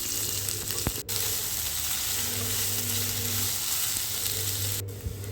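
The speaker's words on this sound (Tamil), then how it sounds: "கறிவேப்பிலை சேர்த்ததும் வெங்காயம் சேர்த்து நல்லா வதக்கிப்போம்" Onions and curry leaves sautéing in oil for a carrot pulao give a strong, continuous close-up sizzle, with a couple of brief clicks from the spoon or pan along the way.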